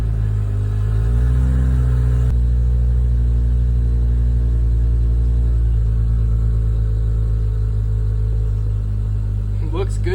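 A 2006 Honda Odyssey engine running steadily after starting, a loud, even low rumble that holds throughout with a slight rise early on, while a person talks briefly.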